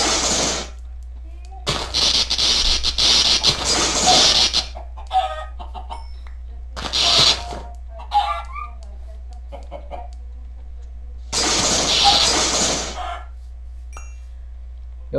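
Bursts of loud, harsh video-game chicken clucking come and go over a steady low hum, with short quiet gaps between the calls.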